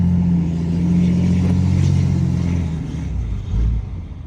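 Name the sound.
heavy truck engine running while driving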